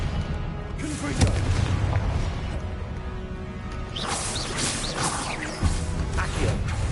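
Spell blasts from the Confringo curse in Hogwarts Legacy go off as heavy booming bursts with whooshing swells, one near 1 second and another near 5.5 seconds, over a dense, steady game soundscape of combat noise.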